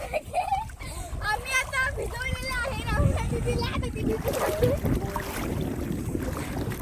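People swimming and playing in a village river in Malvan, Konkan, with water sloshing and splashing under lively talk and children's voices close by.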